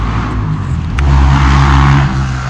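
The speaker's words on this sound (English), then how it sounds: "nice, little dirt bike going by" A small dirt bike rides past, its engine note loud and close and swelling as it goes by before easing off slightly.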